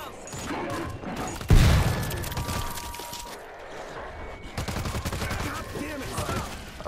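Video game gunfire in World War Z, a loud close shot followed by scattered rapid fire and crashing impacts amid a chaotic zombie fight.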